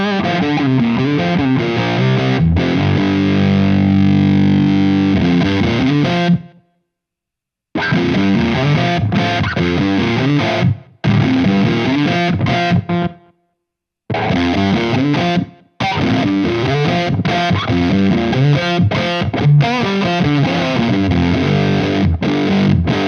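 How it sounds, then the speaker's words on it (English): Electric guitar played through an Electro-Harmonix OpAmp Big Muff fuzz pedal, thick saturated distorted chords ringing loud in several bursts separated by short silences, no talking. "You've never heard a fuzz like that before. I love the OpAmp Big Muff."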